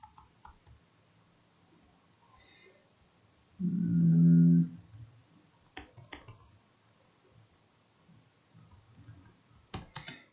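Sparse keystrokes on a computer keyboard while an nmap command is typed into a terminal: a few sharp clicks spaced seconds apart, with a brief tonal hum midway, in a quiet room.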